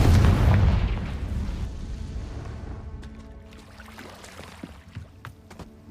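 A Confringo fire spell from Hogwarts Legacy goes off in a loud, booming blast that trails into a long rumbling decay. Fainter clicks and crackles follow, and nobody speaks.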